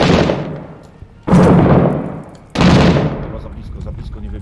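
Three loud booming grenade-launcher blasts in a video-game firefight, each a sharp burst that rings and slowly fades, spaced about a second apart.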